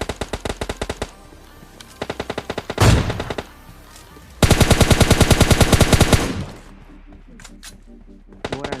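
Rapid automatic gunfire in the mobile shooter PUBG Mobile Lite, loud close bursts of fast regular shots separated by short pauses, with one long sustained burst in the middle and a heavier blast before it.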